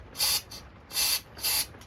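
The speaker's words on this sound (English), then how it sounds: "I'm gonna spray the brake clean piss out of this." Brake cleaner sprays onto an oily nitro engine part in three short, sharp aerosol hisses with small puffs between them, close and fairly loud, with no talking over them.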